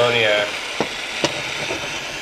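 An Aero acetylene soldering torch hisses steadily at close range as it melts solder, with a couple of faint taps in between.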